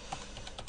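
Brief burst of typing on a computer keyboard, a few quick, faint key clicks close by with no talk.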